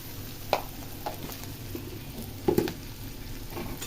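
Food fries in a pan with an even, moderate sizzle while a utensil stirs it, with a couple of brief clinks and scrapes.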